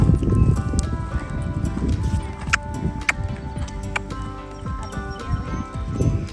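Merlin the horse trotting during cross-country schooling, hooves clip-clopping in a steady, fairly close rhythm on the ground, with faint creaks and jingles of tack between footfalls.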